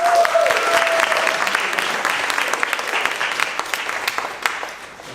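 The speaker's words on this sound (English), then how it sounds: "I think we should give her another round of applause" An audience at a talk on hybrid creative work breaks into a fresh round of applause, thick clapping that starts loud and gradually thins and fades over a few seconds.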